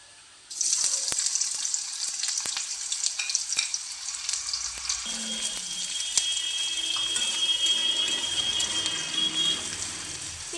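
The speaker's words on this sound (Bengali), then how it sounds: "পেঁয়াজটা হালকা করে ভেজে নিতে হবে।" Chopped onion hitting hot oil in a pan, a sudden loud sizzle that settles into steady crackling frying with occasional clinks and stirring, close up and without any talking.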